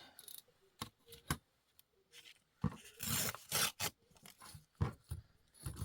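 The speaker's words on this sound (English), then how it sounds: "First I'll tear off the edge so I don't have a straight edge to work with." A paper offcut is torn along its edge in short, close, crisp ripping bursts that come in quick separate strokes with brief pauses between them.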